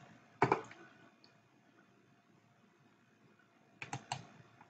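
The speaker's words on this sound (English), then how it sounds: "so I will type" Typing on a computer keyboard: two brief clusters of quick key clicks, one near the start and one near the end, with quiet room tone between them.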